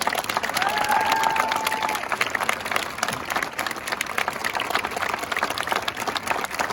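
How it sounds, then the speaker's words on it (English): A crowd at a graduation ceremony breaks into steady applause, many hands clapping in a dense, continuous wash with a brief whistle early on and faint cheering mixed in, fairly loud and sustained throughout. "Can we get another round of applause for our amazing wonderful Mr. Jacob?"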